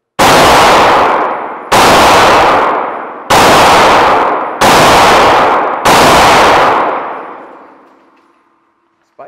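Five loud, close live-fire gunshots from a handgun fitted with a Mantis X10 Elite sensor, evenly spaced about a second and a half apart, each blast ringing out and decaying, the last trailing into a long fade and silence.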